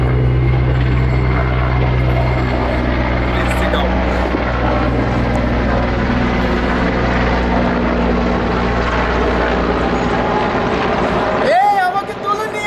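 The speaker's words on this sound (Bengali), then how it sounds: "হেলিকপ্টার আসতেছে, অনেক নয়েজ হইতে পারে" A helicopter approaches a rooftop with a loud, continuous rotor and engine drone that holds steady and close, then cuts off abruptly near the end.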